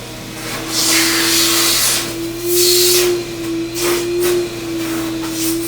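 A loud, steady two-stage carpet cleaning vacuum roar with airy hissing bursts and a constant motor whine, close up with no voices.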